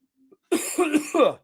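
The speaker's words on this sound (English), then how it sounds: "You know why I cough." A single person's cough, a short throat-clearing burst followed by two more rough bursts, close and fairly loud in a quiet room during a Monday morning radio show.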